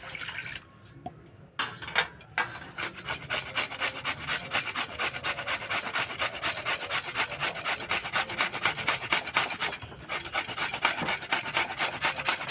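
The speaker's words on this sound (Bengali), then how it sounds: "এবার আলুগুলো গ্রেট করে নেব" Raw potatoes are rubbed against the fine holes of a metal grater for a pakora batter with cauliflower. A steady, rapid rasping scrape repeats close by with brief pauses and no talking.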